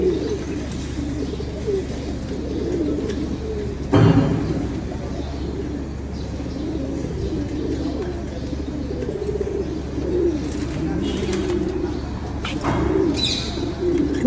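Pet white pigeons coo softly and continuously in a loft, a low steady murmur with occasional chirps and a few knocks, faint voices briefly in the background.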